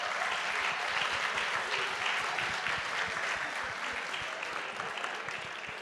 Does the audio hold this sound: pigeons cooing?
no